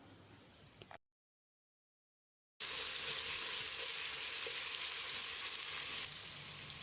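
Steady, bright sizzling of garlic paste frying in hot oil for an Ambur mutton biryani, loud and continuous after a brief gap of silence near the start.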